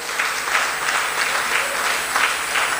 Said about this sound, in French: applaudissez vraiment